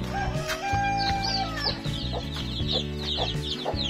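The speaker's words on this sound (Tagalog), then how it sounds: "Alright, so napakarami nating sisiw ngayon, no?" A free-range brood of Kabir chickens and month-old chicks fills the scene with steady overlapping clucks and peeping, plus a few higher calls over a constant farmyard din, close and loud, with no talking.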